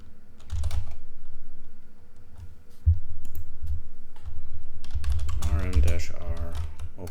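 Clicky keystrokes from a computer keyboard as someone types a terminal command, coming in quick bursts with pauses between them, with a faint voice near the end.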